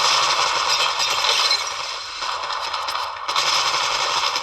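Rapid automatic gunfire from a mobile shooter game rattles in dense, continuous bursts, with a brief lull near the middle before the firing resumes loudly.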